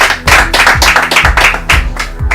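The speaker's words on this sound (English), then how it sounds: "a round of applause for her." An audience claps for a high school contestant on a children's brain-game quiz show, giving a brisk burst of loud, fairly even hand claps with no talking.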